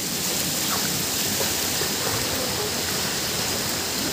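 Strong river current rushing in a steady, dense broadband roar, close and loud throughout with no pauses and no voices.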